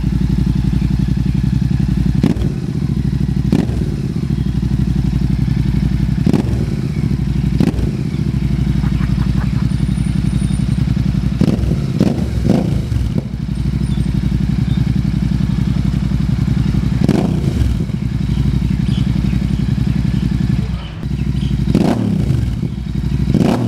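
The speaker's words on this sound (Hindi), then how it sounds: "अब सुनेंगे इसको विदाउट डीबी किलर कैसा साउंड करता है" Royal Enfield Super Meteor 650 with its dB killer removed, a loud, deep, continuous exhaust burble close by, broken by repeated sharp throttle blips and revs throughout.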